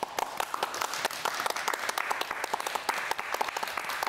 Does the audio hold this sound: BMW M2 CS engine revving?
no